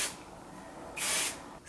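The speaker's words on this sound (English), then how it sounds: "I like that it has a aerosol spray" An aerosol can of thermal protection hair spray gives a short close hiss, then a second brief spray over faint room background.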